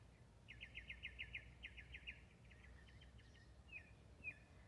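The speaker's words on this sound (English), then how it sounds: "I can hear birds." Faint birdsong chirps in rapid trilled bursts from a distance over a low steady rumble of background noise.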